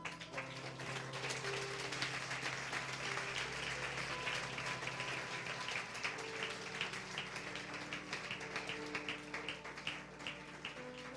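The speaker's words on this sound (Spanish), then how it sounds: "Aplaudan a Jesús." A church congregation applauds in praise of Jesus, continuous clapping heard at a distance and fairly faint, with sustained tones and some voices blending underneath throughout.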